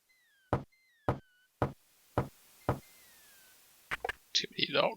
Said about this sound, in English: Too many knocks.